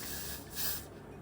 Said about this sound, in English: I use hairspray to glitter my eyebrows.